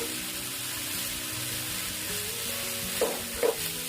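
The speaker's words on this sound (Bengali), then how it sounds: "আমার মাংসটা সিদ্ধ হয়ে যাচ্ছে" Chicken filling for crispy rolls cooking in a pan, a continuous low sizzle with a couple of brief clinks of a utensil near the end, no talking.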